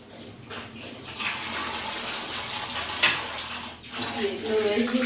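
Water runs from a kitchen tap while something is rinsed, a steady splashing rush with a few knocks of dishes, and a voice briefly speaks underneath.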